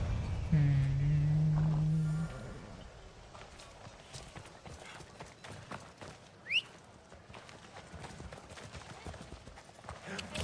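Horse hooves clip-clop in the video game Assassin's Creed Odyssey in a steady walking rhythm at moderate loudness. A brief tonal voice-like sound opens the clip.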